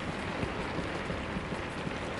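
Heavy rain falls outdoors in northern England, a steady, dense broadband hiss with no talk, close and continuous through the clip.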